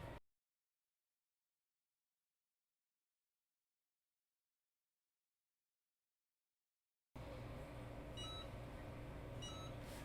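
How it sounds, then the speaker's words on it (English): Faint steady mechanical hum from a Cricut hat press with two short, high electronic beeps near the end signalling it has finished, after a long stretch of silence. "There, it's beeped at you, and it is all finished."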